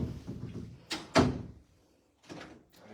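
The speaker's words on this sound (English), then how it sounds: "I'll open this door." A door in the master bedroom of a house is opened, giving a couple of soft thuds and a short rustle, then a brief quiet scrape after a pause, close by in a quiet room.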